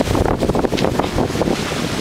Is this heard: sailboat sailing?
yes